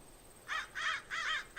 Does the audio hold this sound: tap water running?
no